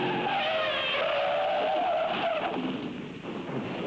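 A race car spins out on a corner after power is applied too early, its tires squealing loudly in a long continuous skid that wavers in pitch and then fades slightly, heard alone.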